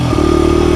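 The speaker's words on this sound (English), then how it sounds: "I am out on the little Honda 80 right now and just playing around in the yard." A Honda CRF80 dirt bike is ridden around a yard. Its small engine drones steadily and close by, with a rough, throbbing tone after a brief shift in pitch near the start.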